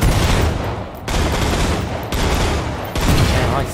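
Gunfire in the video game Killing Floor 2: several dense, rapid bursts of automatic shots, loud and close, separated by brief pauses.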